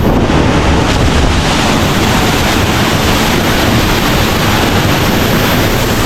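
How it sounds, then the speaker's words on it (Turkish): A powerful waterfall near Lima crashes down in a loud, unbroken roar of falling water. The sound is very close and fills everything, with wind buffeting the microphone throughout. "Su o kadar şiddeti düşüyor ki yani her yerim ıslandı."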